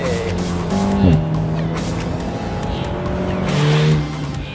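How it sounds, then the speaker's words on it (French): A car pulls away with its engine revving and climbing through gears, loud and close, with a brief tire chirp as it shifts and the drone continuing steadily. "nous voilà partis au volant de la Ravage"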